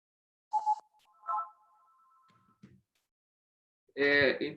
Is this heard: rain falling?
no